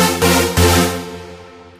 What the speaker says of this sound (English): Saw lead sounds like this.